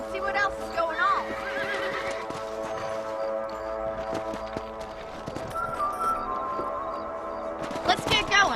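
A horse in the Red Dead Redemption video game lets out a loud whinny, with hooves clopping and a game soundtrack beneath. Tonal game sounds and voice-like noises run alongside it.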